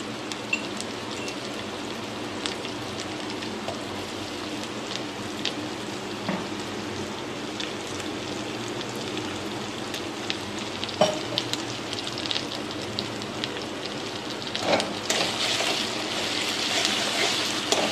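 Ginger and garlic paste fries in a pan for a Bengali fish-head dish, giving a steady, close crackling sizzle throughout with occasional stirring scrapes and louder bursts of spatter toward the end.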